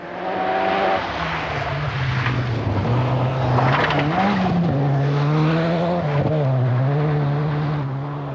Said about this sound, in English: to see a car driven on the edge, on a loose surface through the forest, it's just magic